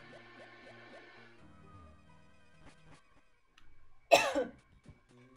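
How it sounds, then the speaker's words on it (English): A single harsh cough bursts out near the end, close and loud, with a smaller follow-up rasp, over faint electronic tones and quiet background hum from a Pokemon Emerald randomizer game session. "And I try not to cough so much."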